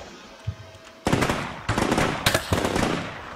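Gunfire in the video game Combat Mission Shock Force 2: after a quiet moment, loud bursts of rapid automatic fire rattle in several clusters, close and sharp.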